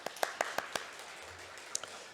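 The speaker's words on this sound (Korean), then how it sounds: "우리 자녀들 나갈 때 박수로 한번 격려해 주실까요?" A church congregation gives a handful of sharp, quiet handclaps in quick succession, which then thin out to near silence, with one or two late claps afterward.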